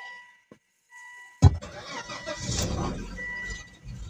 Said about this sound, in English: I'm going to start the car and hear how it sounds like.